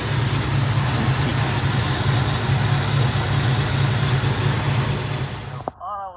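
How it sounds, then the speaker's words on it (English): A 1963 Buick Electra 225 engine idling slightly rich, a steady low rumbling drone held evenly for several seconds before cutting off abruptly near the end, close and moderately loud. "She does smell a little on the rich side at idle, but we could get a little bit better idle out of this."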